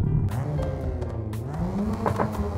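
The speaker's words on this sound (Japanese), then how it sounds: "ロータリーの音" A rotary-engined Mazda Luce sedan driven in the racing game Apex Point, its engine buzzing steadily at close range with a few sharp tire-squeal bursts and shifts in pitch over a few seconds.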